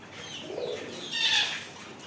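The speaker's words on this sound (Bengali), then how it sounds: "কবুতর ডাকতেছে পাখিগুলো ডাকতেছে" Soft, throaty pigeon coos rise and fall over a couple of seconds, close by in a poultry and bird shop in Oman, with a brighter call swelling near the end.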